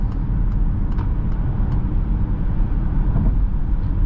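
A Peugeot e-2008 electric SUV gathering speed on a road at night, heard from inside as a steady, low rumble of tyres and road noise with rising wind, continuous and fairly loud with no voices.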